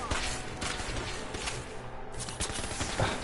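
Shotgun gunfire in the video game Fallout 4, a dense run of loud, sharp blasts and clattering impacts in quick succession, with no talking over it.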